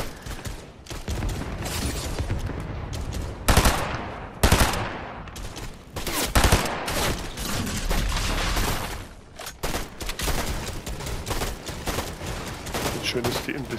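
Dense NPC gunfire in Fortnite, with rapid automatic bursts and heavier single shots cracking loudly and continuously across a busy battle, with occasional voices underneath.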